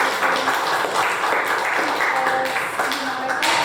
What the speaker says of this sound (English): So give her a big hand, everyone.